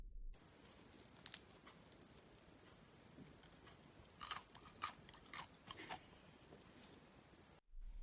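Someone bites into crispy fried potatoes close to the microphone, making a rapid series of sharp crunches and chewing crackles that fade out, with no talking.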